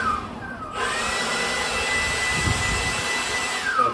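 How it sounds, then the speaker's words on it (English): A Milwaukee battery-powered leaf blower starts up and runs at its low speed setting, a steady, fairly loud airy whoosh that holds evenly for several seconds with no talking. "That's a lower powered blower"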